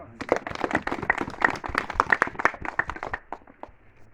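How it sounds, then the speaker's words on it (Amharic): Applause at a church foundation stone ceremony for a worship hall, a moderate crowd clapping steadily for about four seconds, dense overlapping hand claps that thin out toward the end. "አጨብጭቡ።"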